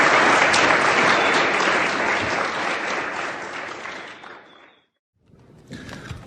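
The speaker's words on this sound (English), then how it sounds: "give them a round of applause" Sustained audience applause fills a meeting room at an AA speaker gathering, loud and dense for several seconds before thinning out and stopping, followed by a brief pause and a softer return of clapping.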